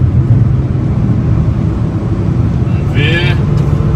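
A Nissan with a six-speed manual gearbox accelerates along a highway in fourth gear, giving a steady, loud low engine drone throughout, with a voice speaking briefly near the end.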